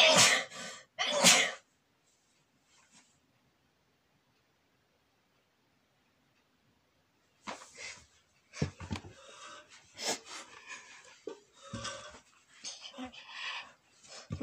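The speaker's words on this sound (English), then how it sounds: "I need to sneeze." Two sharp, loud sneezes from a person with hay fever or a cold burst out at the start, followed by silence, then panting, snorts and shuffling noises close by.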